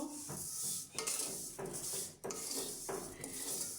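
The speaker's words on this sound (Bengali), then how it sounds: "তো হালকা পাতলা একটু ভেজে নিব।" Spices lightly frying in a pan, a continuous close hiss with rhythmic scraping strokes of a spoon against the pan roughly every second.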